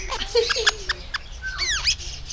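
Lovebirds squawk in New Zealand: a few short chirps, then a louder burst of rising and falling squawks close by, over faint background noise.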